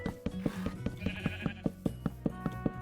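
Sheep in the video game Minecraft bleat repeatedly in a steady, rhythmic series of short nasal calls, fairly close and clear, with no one talking over them.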